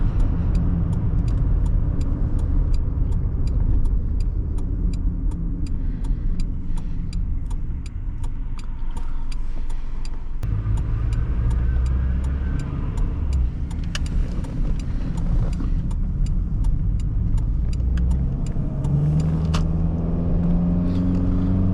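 A 1998 Toyota Camry LE sedan's engine drones steadily and close, pulling slowly up through the gears as the car gains speed, with a low rumble throughout.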